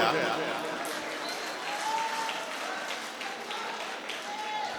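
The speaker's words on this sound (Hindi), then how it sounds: "सिर्फ उधर से ही तालियां आ रही है" Scattered clapping rises from one side of the audience at an Urdu mushaira poetry gathering. It is moderate and uneven, fading slightly and then swelling again, with a few faint cheers mixed in.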